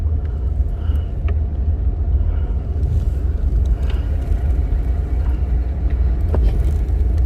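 Steady low rumble of a Lincoln luxury car cruising smoothly on asphalt, a soft continuous road hum with faint rattles and ticks, no voices.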